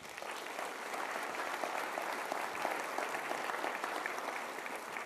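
An audience at a fall convocation applauds the PACE committee, producing a steady, moderately distant wash of clapping that holds evenly for about five seconds.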